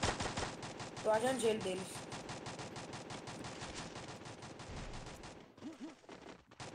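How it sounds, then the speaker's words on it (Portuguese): Rapid bursts of gunfire from a team shooter video game, dense and continuous with a few heavier shots, while players talk over the action. "um tiro"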